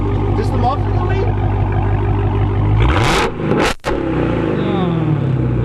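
A Dodge Hellcat running only its muffler as exhaust revs hard and close with a loud rumbling roar, briefly dropping out twice before surging again, while people talk over it.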